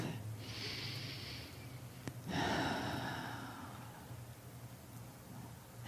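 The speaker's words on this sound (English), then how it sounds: "Take another breath." A person draws a slow, deep breath and releases it during a quiet guided meditation, the soft inhale and exhale standing alone over a low steady background hum.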